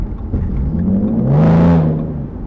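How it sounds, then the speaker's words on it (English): Ford Mustang with camouflage wrap giving a brief rev in low gear, the engine note climbing and swelling to a peak near the middle before easing off, close and fairly loud with no talk. "a little rev, I guess."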